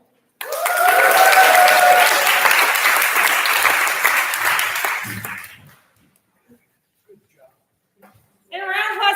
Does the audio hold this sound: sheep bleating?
no